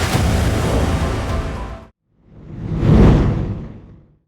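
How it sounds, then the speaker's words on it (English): Trailer stutter sound effect: a dense, rapidly pulsing burst that cuts off abruptly, then after a short silence a second surge swells up and fades away, loud and cinematic. "a stutter is basically, as you can see down here, it's a rhythmic sound"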